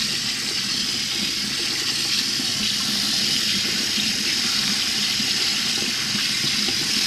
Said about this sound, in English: this is very cold water. It's cold water from our well.